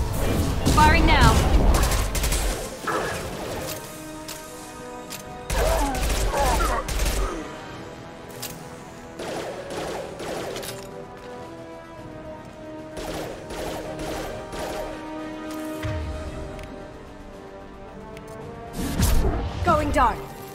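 Mass Effect 2 weapon fire comes in several loud rattling bursts separated by quieter stretches, with combat voices and scattered mechanical clanks between the volleys.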